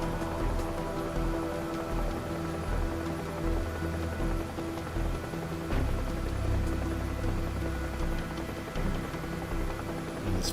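Rain falls during a flight in the video game DCS UH-1H Huey, a steady patter of drops heard over the helicopter's continuous low engine and rotor drone, with no talk.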